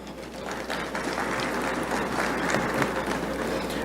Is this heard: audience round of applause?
yes